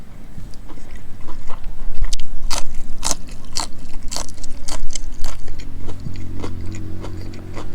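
Someone eating crispy pork with rice, with loud close-up crunchy bites and chewing that repeat in an irregular rhythm over several seconds. No one speaks.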